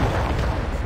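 Ship cannon fire in Assassin's Creed Rogue, a heavy, dense rumbling blast filling the whole short moment with no break, loud and close.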